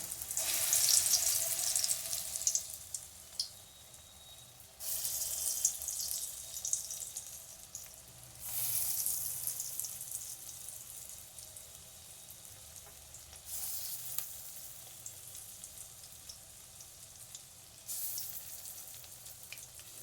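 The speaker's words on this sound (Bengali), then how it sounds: "এরপর এইভাবে শেপ করে একটা একটা করে তেলে ছেড়ে দিতে হবে" Shaped pea lentil fritters (motor daler bora) are slipped one by one into hot oil in a kadai, making a steady close sizzle that surges each time a new piece goes in, with no talking.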